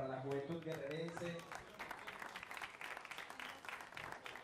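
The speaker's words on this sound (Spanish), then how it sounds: "Fuerte el aplauso para la juventud guerrerense." At a youth job-placement event in Guerrero, a voice speaks briefly before a crowd breaks into sustained, crackling applause that carries on to the end at a moderate level.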